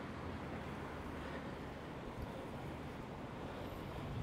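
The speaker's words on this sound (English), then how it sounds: "the wind at the moment here in Southend is pretty bad. 40 mile an hour gusts" Steady wind from Storm Isha, gusting around 40 mph, blowing through Southend-on-Sea in winter; a constant broad rushing roar with microphone buffeting, fairly quiet overall and unbroken for the whole stretch, with no one talking.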